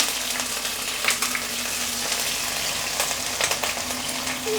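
Crushed ginger and garlic frying in hot oil, with dried red chillies and curry leaves, for a tuna pickle: a steady, fairly close crackling sizzle throughout, with occasional brief stirring scrapes and no talk.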